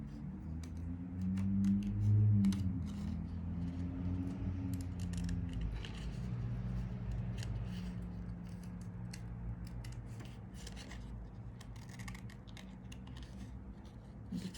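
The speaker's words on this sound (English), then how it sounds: "Just have these last two leaves to cut out." Repeated small snipping and crisp crinkling of scissors cutting paper leaf shapes, close and quiet, with soft handling noises between cuts.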